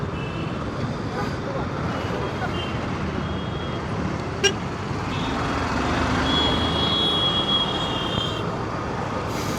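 Busy evening road traffic in Koregaon Park, Pune, heard from a moving motorbike: a steady roar of engines and wind with occasional horn toots and one sharp short beep partway through.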